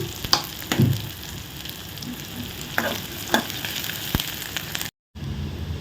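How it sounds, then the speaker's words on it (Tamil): Onions and green chillies sautéing in a pan for a carrot rice dish, a steady close sizzle with occasional stirring scrapes and a few sharp ticks, no speech. "இந்த வெங்காயம் பச்சை மிளகாய் இதெல்லாம் நல்லா வதங்கட்டும்"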